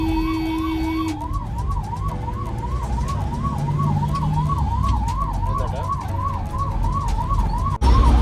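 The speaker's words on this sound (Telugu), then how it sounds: "ట్రాఫిక్ క్లియరెన్స్ కోసం సైరన్ అయితే వేసుకుని వెళ్తున్నాం." A vehicle siren wails in a steady, repeating up-and-down cycle, used to clear traffic while driving through a city at night on a long Hyderabad to Kolkata road trip, loud and continuous over road noise with a brief interruption near the end.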